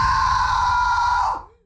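A woman screams hysterically in terror in a single loud, sustained, high-pitched cry that holds for over a second, then trails off abruptly into silence.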